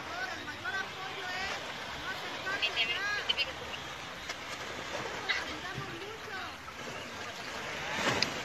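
Water gushes and churns out of a sinkhole that has opened in the ground near a house in Juan Bonilla, Puebla, a steady turbulent roar that surges now and then.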